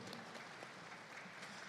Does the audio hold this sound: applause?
yes